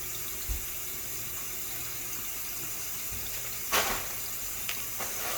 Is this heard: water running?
yes